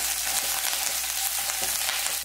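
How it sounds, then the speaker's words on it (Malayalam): Urad dal, peanuts and dried red chillies with curry leaves and green chilli frying in a pan, a dense continuous hiss that stays loud and even throughout, with no voices. "ഇതിലേക്ക് ചേർത്ത ഉഴുന്ന് കപ്പലണ്ടി ഉണക്കമുളക് ഇതൊക്കെ ഒന്ന് ഫ്രൈ ആയിട്ട് വന്നിട്ടുണ്ട്"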